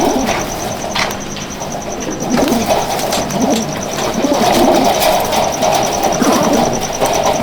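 Madrasi pigeons in a loft coo softly in low, repeated murmurs amid a busy background hum, with a faint steady ticking throughout and occasional light rustles.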